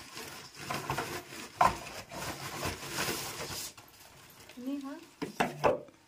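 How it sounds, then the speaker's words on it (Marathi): Plastic water bowls for chicks clatter and knock together as they are handled, with hollow bumps and scrapes coming in bursts under people chatting nearby. "100 पाण्याची भांडी आहेत ती"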